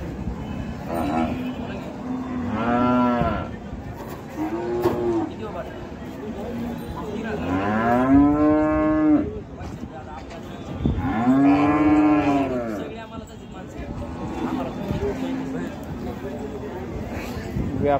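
Sahiwal cows at a Sangola cattle market low loudly several times, long drawn moos rising over a constant crowd babble and nearby talk.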